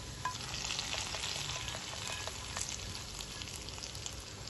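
Shallots and salted fish fry in hot oil while being stirred, giving a steady, close crackling sizzle with small pops throughout and no voices.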